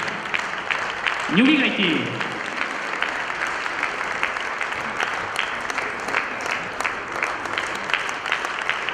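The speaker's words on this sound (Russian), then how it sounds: "Громче аплодисменты" An audience at a Japanese showcase performance applauds steadily, a continuous wash of many hands clapping at an even level, while a voice speaks briefly over it near the start.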